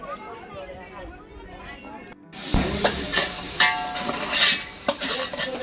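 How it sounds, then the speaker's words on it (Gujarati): Spiced tempering for Ayurvedic Girnari kadhi bursts into a loud, hissing sizzle halfway through, with stirring clinks and voices nearby after a quieter stretch. "મસ્ત મજાની આયુર્વેદિક કઢીનો વઘાર લાગી ગયો છે"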